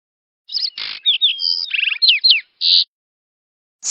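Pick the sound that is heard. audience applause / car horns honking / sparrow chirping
sparrow chirping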